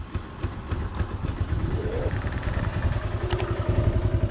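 A 1985 Honda TRX 125 ATV engine running close by, a rough rapid puttering idle with mechanical clatter that steadies and grows slightly louder, a brief revving whine partway through.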